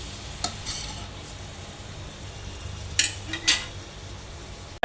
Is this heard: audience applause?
no